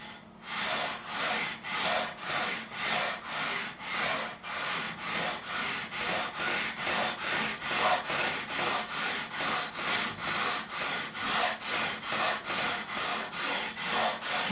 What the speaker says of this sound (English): we're now going to go across with the 320 grit, which is going to help remove some of the deeper scratches left by the 240 grit